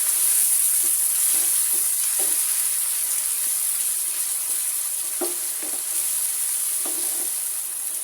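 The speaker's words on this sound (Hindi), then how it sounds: "इन तमाम मसालों की अच्छे से बुनाई करनी है" Spices with a little water sizzling steadily in a pan, a constant bright hiss close up with occasional soft scrapes and taps from stirring, no voices.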